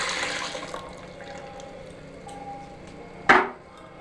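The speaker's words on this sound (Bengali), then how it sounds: "আমি এবার এই গামলাতে ঢেলে নেব দুধটা, দিয়ে ঠান্ডা করতে দেবো।" Milk is poured from a pan into a large bowl while making mishti doi. A steady liquid rush tapers off, then a single sharp clank of metal follows near the end.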